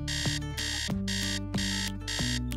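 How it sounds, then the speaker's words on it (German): Wireless Rodger bedwetting alarm for children sounding a loud, steady melodic electronic tone, repeating short rising phrases about every 0.6 seconds with no talk. "Das ist der Roger-Bettnässe-Alarm."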